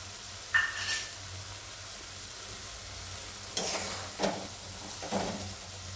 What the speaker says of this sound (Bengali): আমি দইয়ের বাটিতে ধোয়া জলটা দিয়ে দিচ্ছি।